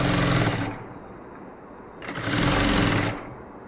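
A domestic sewing machine runs a neckline seam on a round-neck nighty in two close, steady bursts with a brief slowdown between them, loud and clear with no talking.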